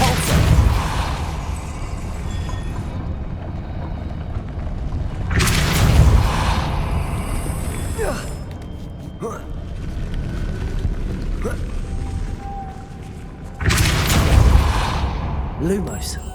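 Depulso spell casts in the game Hogwarts Legacy produce several heavy, booming bursts spaced several seconds apart over a constant rumbling game ambience.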